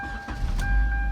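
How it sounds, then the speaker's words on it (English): A Kia Optima engine cranks and catches, a short starter whir and chug rising into a running engine, close and brief. "Cranks right up."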